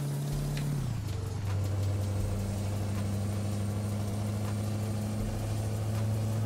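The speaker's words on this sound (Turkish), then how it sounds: "arabanın sesiyle beraber yolculuğumuza devam edelim" A steady truck engine drone in Euro Truck Simulator 2, with a modded Kurt exhaust, with a low tonal hum that shifts pitch early on, then holds a constant idle-like rumble, continuous and close.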